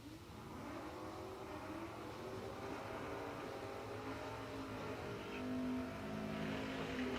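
Drag racing cars run down the track in Friday eliminations at the RAD Torque Systems Spring Fling at Galot, a steady engine roar holding for several seconds with a rising whine near the end.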